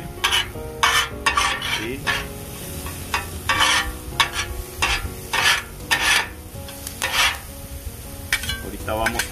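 Havarti cheese sizzles on a Blackstone griddle while a utensil stirs and scrapes in repeated bursts, close and fairly loud, with a light hiss running underneath.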